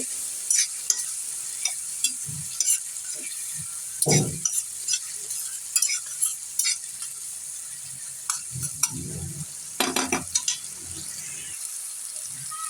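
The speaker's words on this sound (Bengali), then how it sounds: "এখন আমার টমেটো মশলাগুলা কষান কমপ্লিট" Tomato spice masala being stir-fried in a pan for a molla fish curry, with a soft constant sizzle broken by scraping spatula strokes and clinks, close and without talk.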